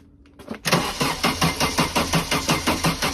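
An Opel Calibra coupe that has sat for 12 years, with a dead fuel pump, cranks hard up close: a loud, rhythmic chug of starter pulses repeating steadily after a quiet lead-in.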